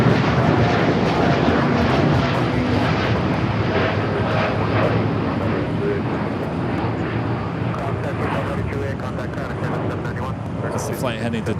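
A Boeing 787-9 Dreamliner flying out of LAX toward Tokyo Narita makes a loud, broad jet roar that slowly fades, with people talking over it.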